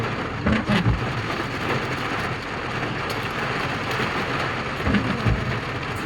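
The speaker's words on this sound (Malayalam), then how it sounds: "ഇവിടെ മഴയും ഒക്കെയാണ്" Rain falls at Ponmudi hill station in Kerala, a dense, steady hiss of drops with a few louder rumbling swells, heard alone without voices.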